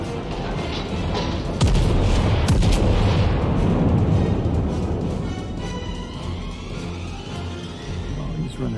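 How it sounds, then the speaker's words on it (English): Heavy naval gunfire from warships in World of Warships, a continuous barrage of deep booms and rumbling blasts that stays loud and dense throughout, with a sharp salvo near the two-second mark and no talking. "Guns."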